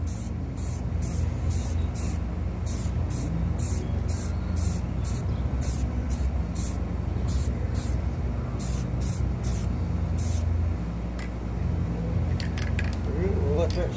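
Bursts of spray paint hissing onto a plywood sign in a shop, short repeated sprays in a steady rhythm over a constant background hum of music from a shop radio.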